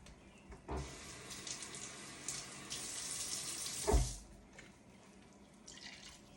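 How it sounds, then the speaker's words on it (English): A kitchen tap runs to rinse out a food can, a broad steady rush of water with a louder swish and clunk midway before easing off, with no one talking. "I'm going to get some water and swish it out"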